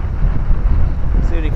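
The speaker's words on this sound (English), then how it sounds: "It's a bit more windier today than it was yesterday." Wind buffeting a microphone on the coast at Walney Island, Cumbria, a loud continuous low rumble throughout this brief stretch.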